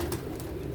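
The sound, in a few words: pigeons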